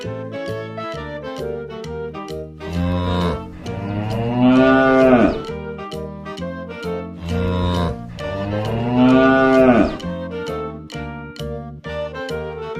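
A cow and calf moo twice, each a long, loud, drawn-out low call several seconds apart, over a steady backdrop of rhythmic plucked musical tones.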